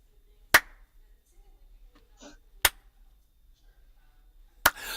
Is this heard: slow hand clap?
yes